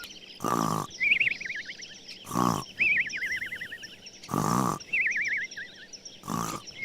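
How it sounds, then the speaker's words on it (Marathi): Cartoonish snoring from a sleeping wolf: four loud rasping snorts, each followed by a wavering whistle on the exhale, in a slow repeating rhythm. "पिल्लांना शोधणाऱ्या बकरीनी त्याचं घोरणं ऐकलं"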